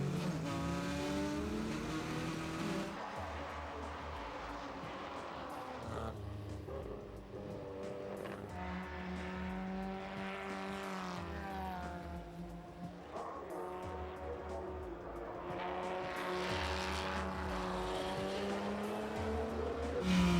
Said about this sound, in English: same spectacle, and the cars are going faster and faster